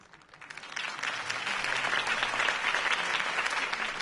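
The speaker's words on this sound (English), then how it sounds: "If only Mr. Wayne, my campaign's largest backer, could have heard that applause" A crowd breaks into applause for a campaign speech in the video game Batman: The Telltale Series, swelling within a second and holding as steady, dense clapping.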